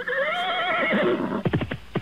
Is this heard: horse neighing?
yes